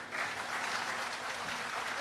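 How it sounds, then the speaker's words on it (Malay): Audience applause at a Keadilan party's 20th anniversary event, greeting poet A. Samad Said after his dedicated poetry reading. It is a dense, steady clapping from many hands that fills the full two seconds at an even level. "Berikan tepukan gemuruh pada Pak Samad Said di atas puisi yang dided"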